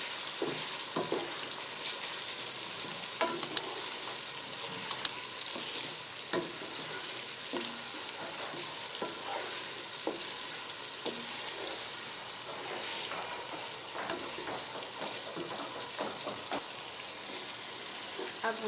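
Green chillies and garlic fry in a pan for chicken pulao, giving a steady, close sizzle with occasional stirring clatters throughout.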